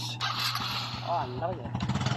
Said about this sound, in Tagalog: Quick start ang agad ng motor.